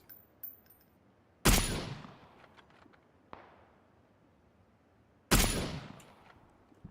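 Gunfire in the PUBG battle royale game on a Sanhok-style map: two loud, sharp bursts a few seconds apart with a smaller crack between, each ringing off into a decaying tail, plus faint clicks at the start and no talk.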